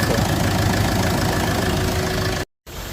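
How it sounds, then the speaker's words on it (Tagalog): A Mitsubishi Strada engine idles steadily after its EGR valve was cleaned, a continuous close mechanical hum and rattle that cuts out briefly near the end before resuming. "Tapos lalong tumahimik yung andar ng ating makina."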